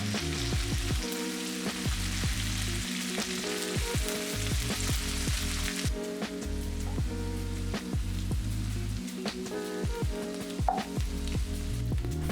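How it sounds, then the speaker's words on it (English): Kimchi and gochugaru stir-frying in a pan for kimchi fried rice with bacon, a steady loud sizzle with repeated scraping strokes of a spoon across the pan, no voices. "Toss in your kimchi and gochugaru, and we're going to stir fry this for about 3 minutes until the kimchi is softened."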